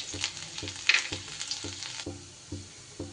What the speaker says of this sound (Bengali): এবার এই তেলের মধ্যে দিয়ে দিচ্ছি আমি একটু রসুন কুচি